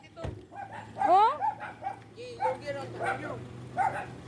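A dog barking outdoors, a few yips and whimpering barks mixed in with people talking nearby, the dog sounds fairly close.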